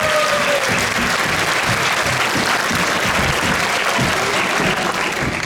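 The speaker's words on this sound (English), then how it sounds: "Let's give a round of applause for everyone." Families fill a school gym with loud, sustained applause at a kindergarten Christmas program, a dense continuous clapping that holds steady throughout.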